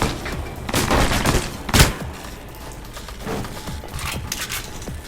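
Enemy gunfire in Alpha Protocol, a clattering run of shots followed by one sharp, heavier report and then sparser pops fading under steady background noise.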